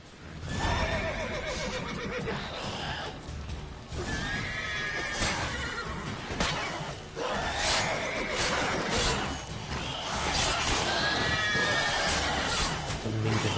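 Horses whinny and neigh several times over steady hoofbeats and a dense, continuous background din, loud throughout, in the video game The Witcher 3.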